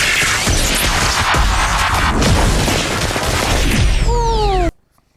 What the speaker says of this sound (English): the sound of the proton pack